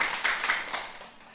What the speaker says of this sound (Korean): 박수 한번 치고 가야죠.